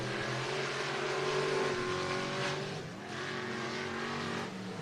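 Race cars on the dirt oval at Cottage Grove Speedway in Oregon, engines droning and revving together as the field takes the green flag out of turn four, a dense sustained roar at moderate distance.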